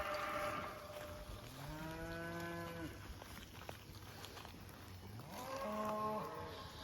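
Grazing cattle on a farm field moo in long, drawn-out calls at a moderate distance, one low bellow followed by a second after a pause, over steady outdoor background noise.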